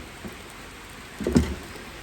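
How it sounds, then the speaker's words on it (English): Rain falls as a steady, soft hiss, with a brief louder patter or bump near the middle, heard alone without voices. "It's raining again."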